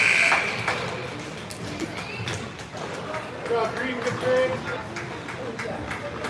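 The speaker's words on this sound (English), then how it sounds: "This will do it for the period as Chandler goes back to retrieve and get the buzzer" A loud electronic buzzer sounds briefly to end a period at a 16U ice hockey game, then the rink goes on with crowd noise and an announcer talking over it.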